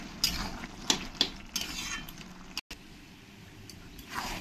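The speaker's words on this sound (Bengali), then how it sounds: "এরকম মাঝে মাঝে একটু নাড়াতে থাকতে হবে, নইলে নিচে লেগে যেতে পারে" A spoon stirs taro stem curry with sesame in a pot. There are light scraping and clinking strokes against the metal, a few sharper taps early on, then softer, sparser scrapes, quiet and close with no voices.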